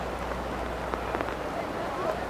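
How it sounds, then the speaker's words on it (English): Steady, heavy rain falls during an outdoor match, a constant dense hiss with no pauses. "We don't care how strong the rain is."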